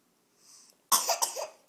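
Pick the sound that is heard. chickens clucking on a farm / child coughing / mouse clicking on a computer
child coughing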